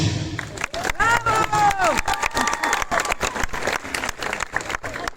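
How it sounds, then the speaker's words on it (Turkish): Applause and cheering break out from guests at a wedding ceremony, a loud dense burst of clapping mixed with shouts and whoops, with voices calling out over it throughout. "Alkış."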